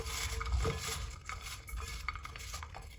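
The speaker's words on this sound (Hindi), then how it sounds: "अब इसको अच्छी तरह मिक्स करेंगे" A spoon stirs potatoes coated in Kashmiri chili powder and salt in a pot, giving soft scraping and clinks of utensil against metal with a faint sizzle, at a low level and with no talking.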